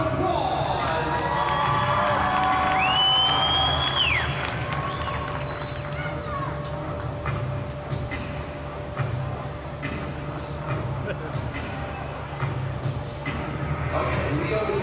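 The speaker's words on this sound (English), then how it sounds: "let's send them off with a big round of applause" An audience at a launch event applauds and cheers in a mixed, busy crowd roar, with whistles and sharp tones cutting through and a steady hum underneath.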